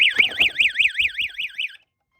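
A fire alarm system sounds during a pull station test: a loud, close electronic tone that warbles up and down in about a dozen rapid sweeps, then cuts off abruptly into silence.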